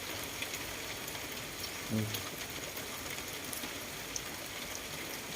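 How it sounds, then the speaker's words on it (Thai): Steady rain patters down evenly, a dense hiss of drops on surfaces throughout, with a brief low murmur of voice partway through. "มาถ่ายบรรยากาศฝนตกครับพี่น้อง"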